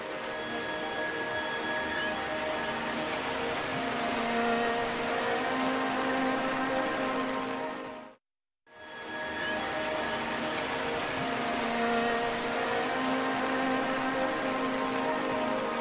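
Steady rain pours down in a Borneo rainforest, a dense continuous hiss that stays even throughout apart from a brief silent break midway.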